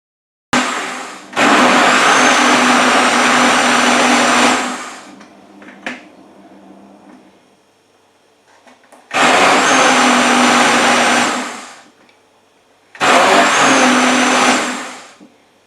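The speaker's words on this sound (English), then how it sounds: "I blend it a few more times until I'm satisfied with the consistency" A kitchen blender purees soaked lentils for moi moi in three loud, steady bursts, each holding a high motor whine before cutting off, with quiet pauses in between.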